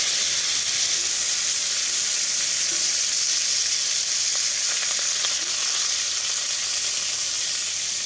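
Mango pieces poured into hot oil with five-spice and dried red chilli set off a loud, continuous sizzle and hiss that holds steady throughout, with a light clatter of stirring.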